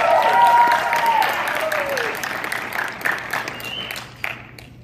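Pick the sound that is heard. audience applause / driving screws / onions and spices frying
audience applause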